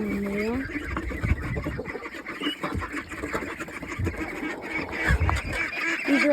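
Chickens and ducks in a backyard coop cluck and quack close by, a busy mix of short calls and rustling that continues throughout.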